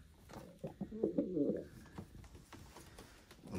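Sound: pigeons cooing

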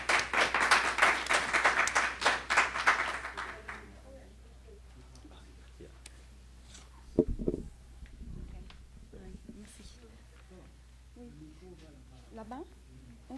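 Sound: audience applause

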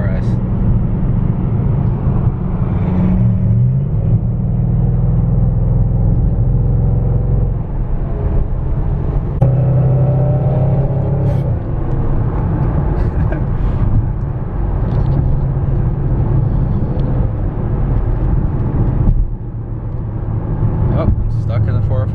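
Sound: Koenigsegg Agera RS driving on freeway

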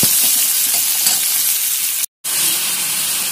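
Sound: onion and green chilli frying in a pan

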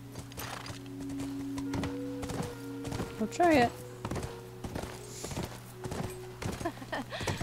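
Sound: horse hooves clip-clopping in video game The Last of Us

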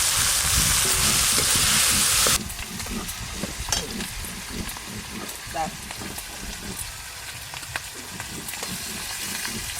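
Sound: spring onions frying in fish-frying oil

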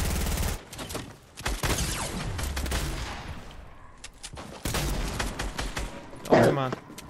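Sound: gunfire in a video game

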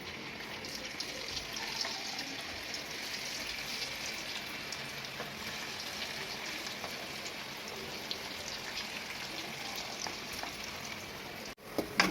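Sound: cauliflower frying in oil for cauliflower chilli

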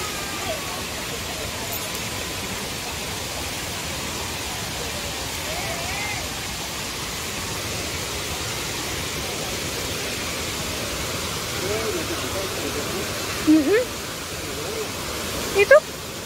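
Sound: rushing waterfall, Dlundung waterfall in Mojokerto

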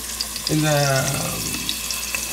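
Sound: onions and chillies sautéing in pan

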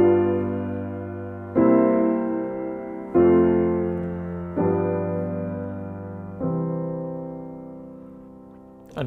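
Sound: closing chords of Bach's Prelude in C, Book 1

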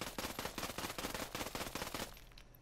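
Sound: Vector SMG burst fire in video game Ghost Recon Breakpoint

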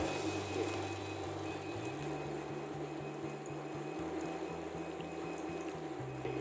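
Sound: water flowing from a repaired pump

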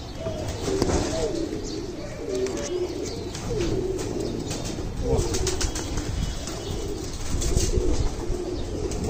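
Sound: grey pigeon cooing and flapping wings

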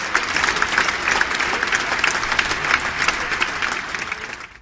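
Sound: audience applause welcoming the magician

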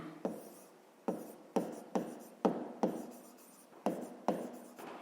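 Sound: writing in a notebook

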